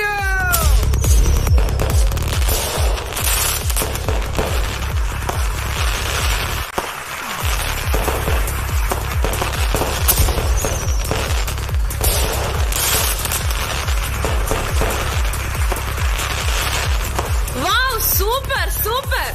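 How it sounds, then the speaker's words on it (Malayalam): Fireworks at a school annual day programme: rapid crackling bursts, loud and dense throughout, mixed with crowd noise and voices. "ഞാൻ ഒട്ടും പ്രതീക്ഷിച്ചില്ല കേട്ടോ ഈ വെടിക്കെട്ട്."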